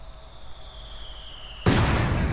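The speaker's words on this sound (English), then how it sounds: "Mortar round really did a nice job there." A mortar round explodes in the World War II strategy game Company of Heroes 2, a sudden loud close blast that cuts in after a faint whine and then rumbles on, with no voice over it.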